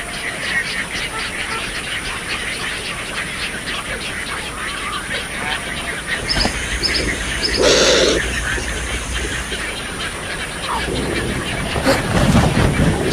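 Many birds call together in a dense, steady chatter at the shallow pools of the Amazon river, with a louder burst near the middle and honk-like calls, while a voice talks over them throughout.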